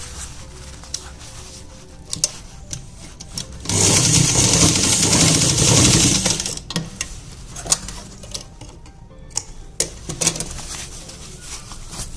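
A sewing machine stitches a narrow Patiala salwar, running in one steady whirring burst of about two seconds, surrounded by quieter fabric handling and scattered clicks.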